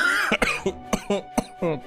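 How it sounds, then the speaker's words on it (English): A burst of repeated harsh coughs, about five sharp hacks in under two seconds, close and loud, mixed with throat-clearing and voiced gasps between them. "I wasn't coughing at all like this, like, throughout the rest of the day."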